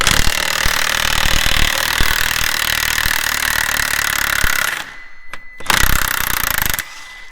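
A loud DeWalt power tool works on the track of an AMI Ruckus rake, a harsh, steady close-up drone that cuts out briefly near the end and then starts again.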